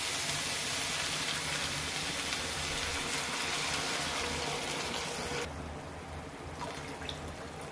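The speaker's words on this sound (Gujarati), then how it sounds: "પાણી દેઇદેવા" Water poured into a pan while making masala oats, a steady close hiss and splash lasting several seconds before thinning out to quieter trickling.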